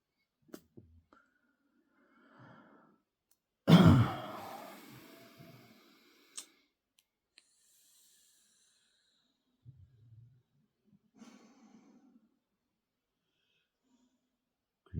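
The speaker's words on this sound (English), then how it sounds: "hear Marnie sighing because I'm talking while he's trying to rest." One heavy, breathy exhale from an animal close by, followed by a few faint soft breaths and rustles in a quiet room.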